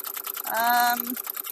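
A sewing machine runs in quick rhythmic ticking stitches, briefly under a short voiced sound, close and moderately loud.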